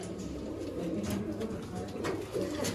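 Pigeons coo softly at a pigeon setup, low rolling coos repeating under faint background noise and distant chatter, moderately close but not loud.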